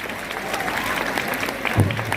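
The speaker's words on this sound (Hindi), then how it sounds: "तो नेताजी की तालियां जरूर बजाते रहो" Audience clapping for a student playing Netaji at a school Children's Day and annual function, a steady crowd applause throughout with a louder burst near the end.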